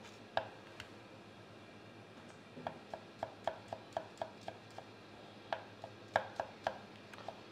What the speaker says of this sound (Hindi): उसी तरह आपने टमाटर को भी इसी तरीके से काटना है।